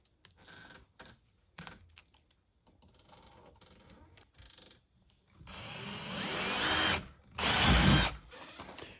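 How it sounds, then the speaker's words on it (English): A drill boring a hole through a door to fit a smart lock, heard as two loud bursts of whirring and grinding after quieter handling and tapping noises. "So I'm gonna line this up and mark this hole and get it drilled."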